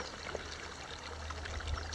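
Warm 90-degree mineral water pours from a feed pipe into an outdoor pupfish pool, making a steady close trickling splash with a soft low rumble underneath.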